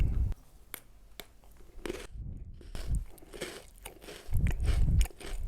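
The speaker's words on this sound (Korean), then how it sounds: "이제 기본 빼빼로 두 개 먹어볼게요" Pepero chocolate-coated biscuit sticks being bitten and chewed up close, giving a series of sharp crunchy snaps followed by softer munching, with no talking.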